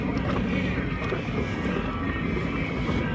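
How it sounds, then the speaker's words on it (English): Wind roaring steadily across the open water of a lake during a small-boat fishing outing, with constant loud buffeting against the microphone and no break. "but the wind is picking up."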